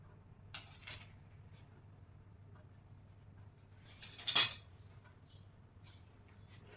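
Scissors snipping through blouse fabric while cutting out a size-38 princess-cut belt blouse, with a few soft, sparse clicks and one sharper snip against a quiet background.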